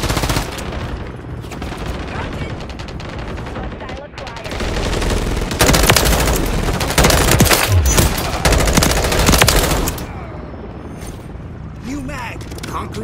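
Loud, near rapid-fire gunshots in a Modern Warfare 3 firefight, long automatic bursts that intensify in the middle, with a voice speaking at times over the shooting.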